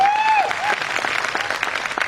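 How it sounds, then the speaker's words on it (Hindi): Audience at a Modicare business gathering applauds, a dense, fairly loud wash of clapping throughout, with a short tonal sound near the start. "एक बार जोरदार तालियां आप लोगों को"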